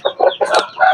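A hen with chicks clucks several times in quick succession in a chicken coop, close and clear, with soft chick peeps in between.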